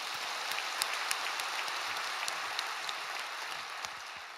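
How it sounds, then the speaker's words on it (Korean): A church congregation applauds during an early-morning worship service, a dense, even patter of many hands clapping that holds steady throughout, heard at a moderate distance with no speech. "우리 하나님께 우리 영광의 박수 올려드립시다."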